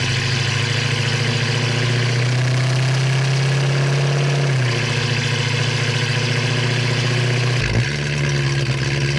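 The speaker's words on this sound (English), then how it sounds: "Today we are in a 1966 Ford Mustang Coupe with a 289 and a 3-speed automatic transmission." A 1966 Ford Mustang Coupe with a non-original 289 V8 and C4 three-speed automatic idles steadily with a deep, even rumble, dipping in pitch briefly as the idle shifts, heard close with no talk.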